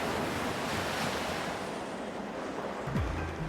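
Huge ocean waves and heavy sea surf during a severe cyclone make a continuous loud roar with a wind-blown rush, steady throughout and with no voices.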